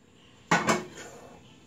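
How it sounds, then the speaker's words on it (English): Metal utensil clattering against a pan in a home kitchen while cauliflower pizza crust is prepared, two quick loud clanks close together followed by a short ringing decay, with no talking. "Sorry about the metal on the pan."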